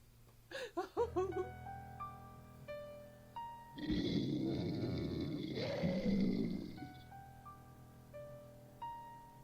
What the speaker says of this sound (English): his stomach growling sound like a damn mountain lion or something